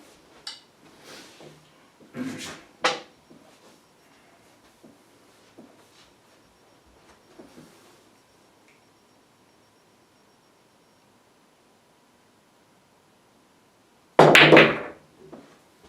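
A pool cue striking billiard balls during a final aiming shot, heard as a sharp burst of clacks near the end after a stretch of faint, scattered taps and quiet room sound.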